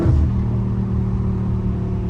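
A car being drifted through a residential neighbourhood, its engine giving a loud, sustained low rumble with a brief rev at the very start, heard close and steady without any talk.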